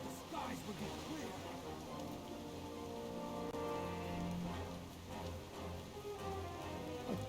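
Steady rain falls in a video game, a continuous dense patter on surfaces that holds at a constant, fairly loud level throughout, with game sounds and possible voices mixed in underneath.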